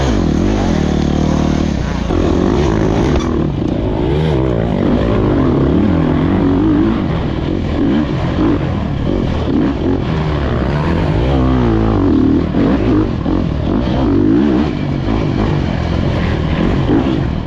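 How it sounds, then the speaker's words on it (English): A dirt racing motorcycle on a trail sputters and restarts after stalling, its engine rising and falling in revving bursts close by, with other bikes droning past. "I stalled the motorcycle."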